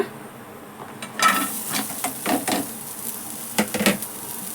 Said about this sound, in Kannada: ಇವಾಗ ನೆಕ್ಸ್ಟು ಒಂದು ತವಾದಲ್ಲಿ ಎಲ್ಲನೂ ನೀಟಾಗಿ ಫ್ರೈ ಮಾಡ್ಕೊಳ್ಳೋಣ.